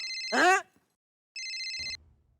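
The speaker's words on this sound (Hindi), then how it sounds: "ये देख भिड़े का फोन है" Electronic telephone ring in two short bursts separated by a pause, loud and close, with a brief voice sound before the first ring.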